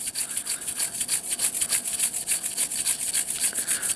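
Brisk back-and-forth brushing scrubs the sight of a Browning Buck Mark Camper pistol, a steady close rhythm of bristle strokes repeating several times per second, with no voices.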